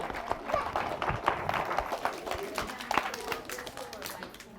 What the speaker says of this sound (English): Can we applaud for good book?